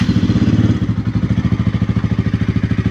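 A KTM Duke 200 V2 motorcycle with a starting problem has its starter relay chattering in a fast, steady stream of close, loud clicks that lasts the whole time, with no engine catching.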